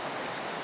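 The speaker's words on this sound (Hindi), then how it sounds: "और ये देखें साथ ये बहता पानी खूबसूरत।" A mountain stream beside a green forested valley gives a steady, close rush of flowing water, constant and broadband, with nothing else heard.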